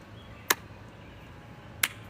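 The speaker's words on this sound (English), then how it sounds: "You want a slow clap?" Two slow, deliberate hand claps, sharp and isolated, spaced more than a second apart against near silence.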